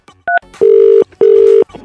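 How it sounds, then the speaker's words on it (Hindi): Telephone keypad dialing tones: a brief double beep followed by two longer, loud, steady tones with short gaps between them, heard alone without talk. "भाई साहब को फोन लगाता हूँ मैं"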